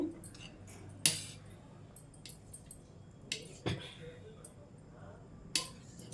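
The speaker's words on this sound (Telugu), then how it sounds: "చిన్న చిన్న ముక్కలుగా ఈ విధంగా కట్ చేసుకోండి" A knife chops food into small pieces on a board for egg pakodi, with a few sharp distinct cuts spaced apart over a quiet background and someone talking between them.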